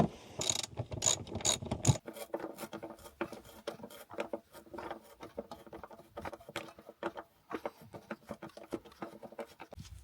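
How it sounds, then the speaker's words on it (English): A ratchet wrench loosens the bolts holding a car seat, giving bursts of rapid, close-up clicking with short pauses between strokes and no talking. "so we've undone all the bolts"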